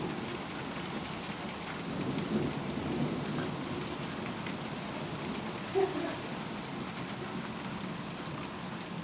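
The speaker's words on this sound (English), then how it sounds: "it's thundering and lightning out there" A thunderstorm with steady rain falling on a surface and low rolling thunder throughout, one sharper crack near the end; a faint voice is barely present beneath the downpour.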